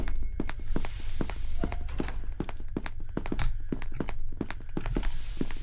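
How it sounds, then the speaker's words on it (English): Footsteps in an SCP horror video game, a steady doubled run of sharp taps and thunks at a walking pace, close and clear over a low ambient drone. "Hearing double footsteps is really disconcerting in an SCP game"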